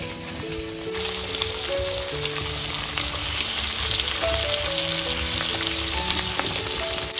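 Pomfret fish frying in oil on a preheated griddle gives a steady, close sizzle that holds from start to finish, with faint music playing underneath.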